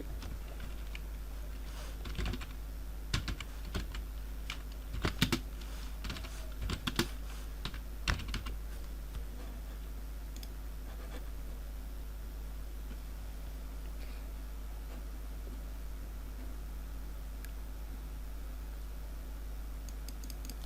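A computer keyboard clatters in short bursts of key taps, busiest early and thinning out into sparse clicks over a low steady hum.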